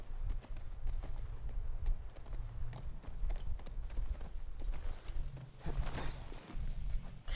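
Steady clip-clop of horse hooves trotting at a brisk, even pace in The Last of Us Part II, close and continuous throughout, with a low rumble underneath.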